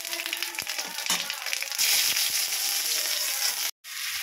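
Whole cumin, bay leaves and dry chillies hit hot oil with a loud, close crackling sizzle and a few sharp pops. The spitting intensifies midway, then cuts off abruptly near the end before resuming briefly.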